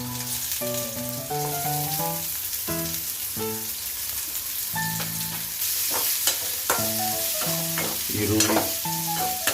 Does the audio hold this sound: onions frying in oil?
yes